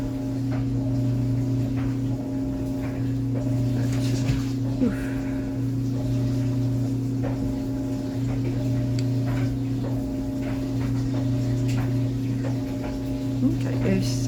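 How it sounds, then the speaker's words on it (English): A washing machine in a laundry room runs with a steady low hum and a faint regular ticking throughout, a continuous mechanical drone close by with no pauses. "you will hear my washing machine in the background because I'm actually in my laundry room"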